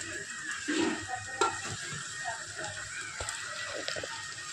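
Mutton roast is stirred in a pan, giving a faint sizzle with soft scraping and stirring sounds, under a quiet background voice.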